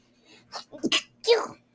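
A single sharp sneeze with a short inhale before it, close and clear in a quiet room.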